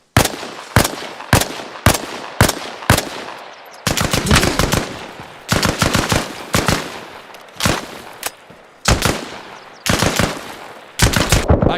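Loud automatic gunfire in the video game DayZ, bursts of rapid shots fired in quick volleys with brief gaps, each crack sharp and close, with no talk over it.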